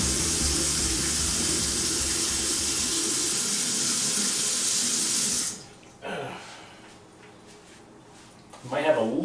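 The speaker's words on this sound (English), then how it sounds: "I'm just going to use some cold water so that it doesn't destroy my plumbing too" Cold water runs loudly from a kitchen tap for about five seconds, then shuts off, followed by quieter handling noises and a person talking toward the end.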